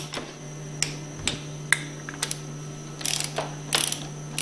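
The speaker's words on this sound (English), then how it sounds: "And then torque these valve caps to 85 foot-pounds." A ratchet wrench clicks as it torques the valve caps on a Powerline plunger pump during a service job. The clicks are close, sharp and irregular, coming in short bursts over a steady low hum.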